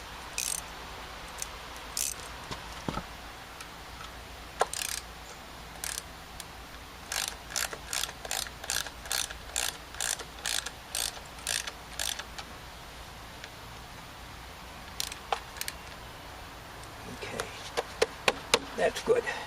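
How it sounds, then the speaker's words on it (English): Ratchet socket wrench clicking in a long run of regular ratcheting strokes while tightening a bolt on an engine, close, with scattered mechanical clicks before and after and someone talking at times. "We are going to try to find my socket here. All right, we'll tighten that up."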